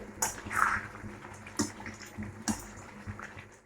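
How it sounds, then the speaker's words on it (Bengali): Warmed water is poured into a pressure cooker over meat already browned in oil, giving a brief splashing pour with a few sharp liquid bursts, close and moderately loud. "এবার দিয়ে দেবো জল।"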